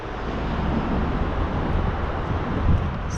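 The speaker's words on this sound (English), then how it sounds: "It is a bit windy" Steady wind rushes and buffets the microphone, a continuous low roar that swells slightly near the end.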